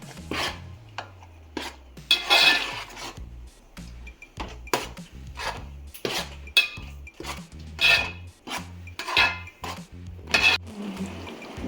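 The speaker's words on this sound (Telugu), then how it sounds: "కలుపుకుంటూ ఉండాలి లేకపోతే అడుగంటూ పోతుంది దగ్గరే ఉండి కలపాలి" A spoon scrapes and clatters against a pot while a thick jaggery sweet mixture for Ugadi jilledu kaayalu is stirred, producing repeated close, uneven strokes and knocks throughout, with no talking.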